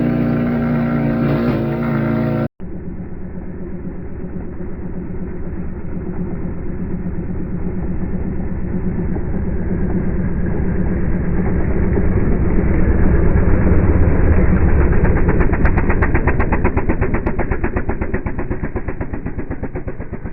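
A Kawasaki KLX110 minibike fitted with a Timbersled Ripper snow kit revs on snow, its small engine droning steadily and rising slightly in pitch after a brief cut near the start, close and loud with no talk.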